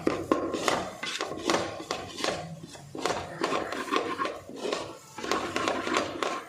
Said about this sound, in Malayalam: ഓക്കെ, ഇനി എന്നിട്ട് നമുക്ക് നല്ലോണം ഇളക്കി കൊടുക്കാം